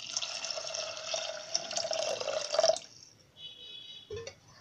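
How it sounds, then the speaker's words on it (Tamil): Water is poured from a cup into a pressure cooker holding red rice, a steady trickling stream lasting about three seconds, followed by a faint clink of a utensil. "அரிசியை போட்டுட்டு இதில் வந்து மூழ்கிற அளவுக்கு நம்ம இதில் வந்து தண்ணி ஊற்றிக்கலாங்க"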